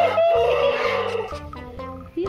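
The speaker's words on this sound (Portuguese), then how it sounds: "até o galo gostou da minha piada" A rooster crows loudly and close, one long wavering call lasting about two seconds, with a short burst of noise at the very end.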